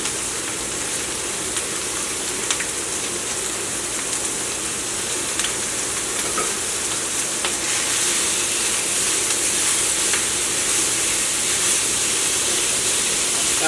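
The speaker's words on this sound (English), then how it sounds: "So the bacon's been cooked in the cast iron skillet." Bacon sizzling in a 10-inch cast iron skillet, a constant broad hiss and crackle at steady volume, with no voices over it.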